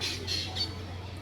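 A few faint calls from breeding pigeons come in short bursts over a low steady hum, quiet and somewhat distant.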